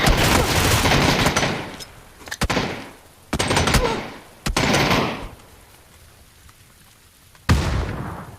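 Gunfire in the battle royale shooter PUBG, heard as several loud, dense bursts of shots at close range, separated by short quieter gaps with background rumble.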